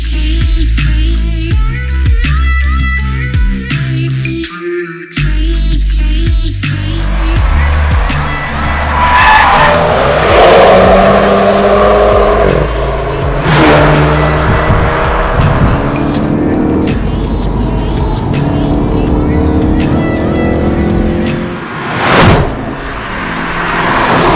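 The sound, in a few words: Volkswagen Golf GTI MK7 launch control acceleration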